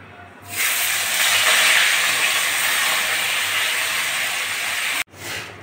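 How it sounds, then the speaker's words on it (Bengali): Rohu fish pieces frying in hot oil give a loud, steady hiss from start to finish, with a brief cut near the end before the sizzle picks up again. "এবার মাছগুলো ভেজে নেব"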